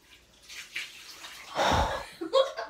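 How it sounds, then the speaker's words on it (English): Ice water poured down a shirt during an ice bath challenge, a brief close splash and trickle lasting about half a second, with voices talking and reacting around it. "Yeah, pour it down your shirt."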